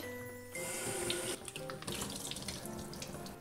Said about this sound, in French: il faut jeter, il faut rincer. Là, je jette.